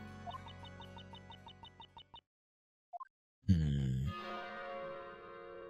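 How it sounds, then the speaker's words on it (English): In Professor Layton vs Phoenix Wright, a run of quick dialogue blips stops, then a single bell strike rings out loudly and fades with a lingering tone. "And then she rang the bell."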